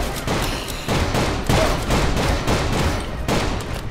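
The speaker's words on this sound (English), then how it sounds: "I'm trying to shoot, but I keep reloading" Rapid, loud bursts of gunfire fill the Call of Juarez game's soundscape, with repeated shots cracking in dense clusters, briefly easing, then firing again.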